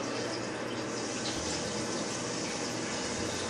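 Hot water from a hose pours steadily into a homebrewing pot, a continuous loud gushing and splashing with no pauses.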